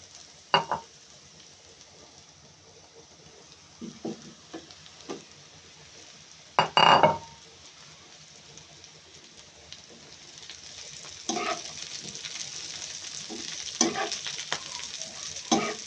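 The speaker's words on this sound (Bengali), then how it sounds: "আজকে প্রথম পেঁয়াজের কারি ভাজা, অল্প একটু ভাজি করেছি আর মাছ ভাজা।" Onion fritters and fish frying in oil in winter: a soft steady sizzle with occasional sharp bursts of crackling spatter and scraping stirs, gradually growing busier toward the end, no talking.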